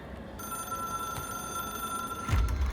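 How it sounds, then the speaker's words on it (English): A telephone rings in the video game Control, a steady electronic trill that holds alone for a few seconds before a low thud near the end. "It is a phone."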